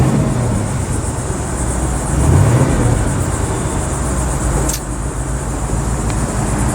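A 1967 Pontiac Firebird convertible with a factory 400 engine drives along with a steady, loud engine drone and road rush that swells briefly, then eases back.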